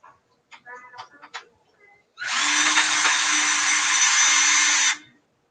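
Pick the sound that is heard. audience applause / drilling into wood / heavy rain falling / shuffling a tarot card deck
drilling into wood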